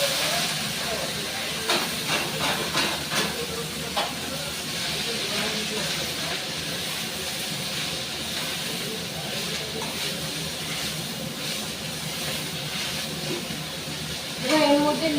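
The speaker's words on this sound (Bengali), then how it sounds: "আর রসুনটাকে আমি একটু ভালো করে ভেজে নিচ্ছি, লাল লাল করে।" Garlic frying in oil in a pan for leafy greens, a steady loud sizzling hiss that holds throughout with small crackles and brief clatters of a utensil.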